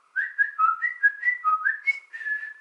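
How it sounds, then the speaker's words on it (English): A person whistles a short, wavering melody of about a dozen connected notes, close and fairly soft, with no talking over it. "can you whistle?"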